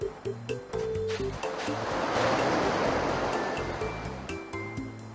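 Ocean surf rolls onto a beach in The Hoobs PS1 video game, a broad steady wash that swells in the middle. Light tonal game music plays over it at the start and end.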